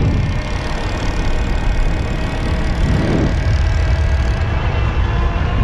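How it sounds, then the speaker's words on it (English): An EVELO Aurora Limited e-bike's geared motor, rated at 105 newton meters of torque, carries the bike up a hill with a steady thin whine over constant rushing road and wind noise, close and continuous. "And you do hear the motor, there's a little bit of a whine."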